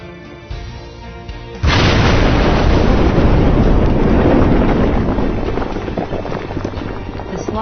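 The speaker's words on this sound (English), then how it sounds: "The slot raise is blasted and an LHD is used to clear the muck pile." Underground blast in a gold mine's slot raise, charged with emulsion explosive: a sudden loud broadband roar that bursts in after a low hum and keeps rumbling and rushing for several seconds, fading slowly.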